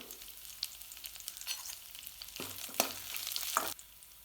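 Ginger, dried chillies, curry leaves and asafoetida frying in hot oil, soft crackling sizzle with a few sharper pops and spoon stirring, quiet and close.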